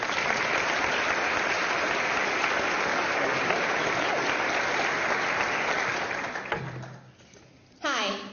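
Audience applause fills a hall at a university grand opening as a speaker is welcomed, a loud, dense, steady clapping that fades out toward the end before a brief voice cuts in.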